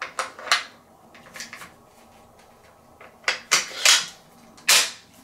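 Browning X-Bolt rifle bolt sliding and locking into the receiver, a few sharp metallic clicks and clacks close up, clustered in two bursts with quiet handling between.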